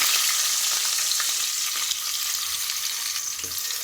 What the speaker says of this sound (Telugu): ఇప్పుడు ఉల్లిగడ్డ వేసుకుంటున్నాము. చూసారు కదా, అంతా బాగా ఫ్రై అవుతుంది.